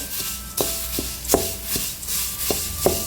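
Roasted drumstick leaves crushed by hand for murungai keerai podi, a handful of close, dry crackling crunches spaced irregularly with no talking.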